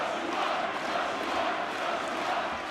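Arena crowd at the Anthony Joshua versus Joe Gavern boxing match, a steady, dense roar of many voices murmuring and shouting together, sustained and even throughout with no single standout cry.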